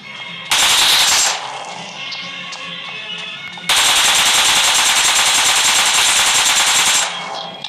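Video game gunfire in a battle set in Jerusalem: a short loud automatic burst, a brief lull, then a long sustained stream of rapid shots that cuts off near the end.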